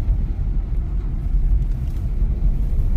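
An automatic Nissan Magnite running on CNG drives on a test drive, giving a steady low engine and road rumble from inside the cabin, constant and fairly loud with no voices.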